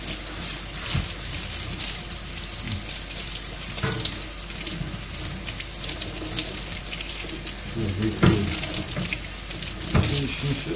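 Water runs steadily from a kitchen tap to soak salted meat for homemade pastırma, a loud constant splashing stream with occasional knocks and clatters of handling, with no talking.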